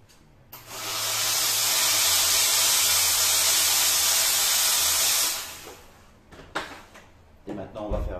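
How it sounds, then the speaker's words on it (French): A steam cleaner used for bedbug treatment fires one long, loud, steady hissing jet of steam for about five seconds, then cuts off, followed by quieter handling clicks and knocks. "On va faire un petit test maintenant pour voir un peu le jet de vapeur que ça donne."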